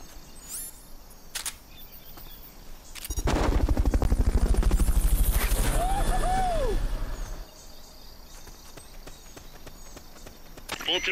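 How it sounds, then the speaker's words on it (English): In Metal Gear Solid Peace Walker, a Fulton recovery helicopter sweeps in with a loud burst of rotor and whooshing noise lasting a few seconds, preceded and followed by quieter game ambience and clicks. "Fulton recovery helicopter is complete."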